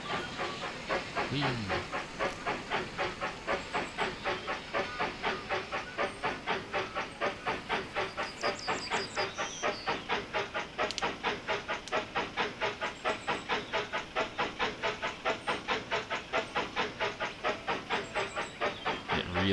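A steam locomotive runs in the Railroad Tycoon 3 video game, with fast, even chuffing beats over a constant hiss that carry on unbroken throughout. One voice briefly calls out an excited exclamation early on.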